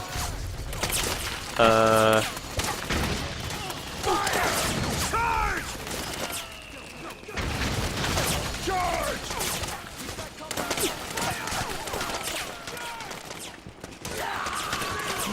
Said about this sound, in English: There's a giant mortar you can man right behind you.